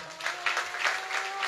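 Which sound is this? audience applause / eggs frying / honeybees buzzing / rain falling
audience applause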